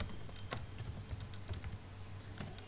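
Light typing on a computer keyboard while entering text in an Excel spreadsheet: soft, quick key clicks in an uneven rhythm, close and quiet, over a faint background hum with no talking.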